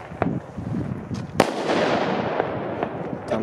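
New Year's Eve fireworks go off at a distance, a scatter of sharp pops and one louder bang echoing into a sustained rumbling crackle, with no voices.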